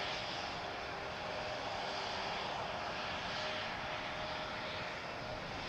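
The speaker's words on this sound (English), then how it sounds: "Meanwhile, to my right, an Embraer has lined up on the runway. You guys probably hear it already." An Embraer jet lined up on runway 36L at Amsterdam Schiphol gives off a steady broad engine roar at moderate distance, constant throughout with no voices.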